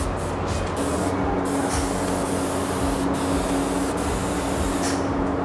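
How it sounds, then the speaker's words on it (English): A pump at a wood shop's varnish mixing station sprays varnish with a steady, loud hiss and a constant hum that runs unbroken throughout, with no voices over it. "This is where the pump is. It pumps the varnish."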